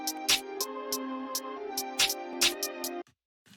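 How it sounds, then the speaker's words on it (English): Staggered triplet drill hi-hat pattern programmed in FL Studio, crisp ticks in uneven clusters over sustained melodic tones, loud and close, cutting off abruptly near the end. "It's kind of like a staggered triplet beat."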